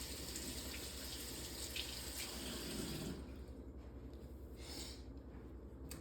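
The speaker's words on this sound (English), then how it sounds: "Wash off my brush. Yes, I do this in my kitchen because the sink is available." Tap water runs steadily into a kitchen sink while a paintbrush is washed, a constant close hiss that eases and splashes lightly partway through, with no talk.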